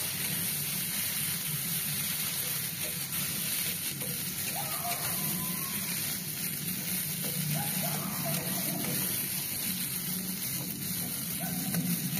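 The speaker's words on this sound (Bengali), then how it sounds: "এবার যে লাউ শাকটা ছিল বাটা, ওটাকে তেলের ওপরে দিয়ে দিলাম। এবার ভালো করে নেড়ে নেব।" Ground bottle gourd leaf paste frying in hot oil while being stirred, a steady close sizzling hiss that stays even throughout with no talking.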